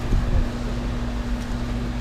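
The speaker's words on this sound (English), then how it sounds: "I think this one has a broken fan motor" An outdoor Goodman heat pump at an apartment complex runs with a broken fan motor, giving a steady droning hum with a low tonal buzz, mixed with wind rumble that swells briefly near the start.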